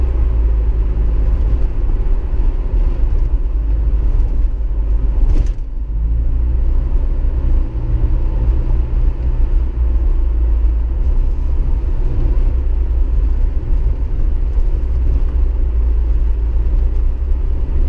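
A Jeep Wrangler SE engine is heard from inside as a loud, steady low rumble and whir, holding fairly even throughout with a brief bump partway through.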